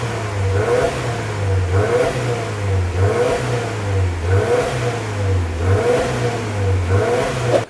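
A 2022 Subaru WRX engine revs repeatedly through its quad exhausts, rising and falling in steady cycles of a deep, throaty roar that stays loud and close throughout.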